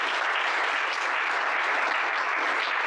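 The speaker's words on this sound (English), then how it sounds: "a clap for them." An audience at a fundraising event claps steadily, a dense, even wash of applause that stays loud and unbroken throughout.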